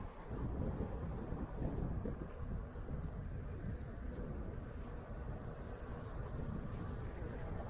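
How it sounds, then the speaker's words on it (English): Strong headwind buffets a cyclist riding along a city seawall, a continuous low roaring rush of wind against the microphone that rises and falls slightly throughout, with no talk. "Strong headwind."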